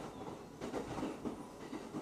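A Yamanote Line commuter train runs along the rails in Tokyo, a steady rolling rumble with rhythmic wheel clacks recurring over the joints at a low-moderate level.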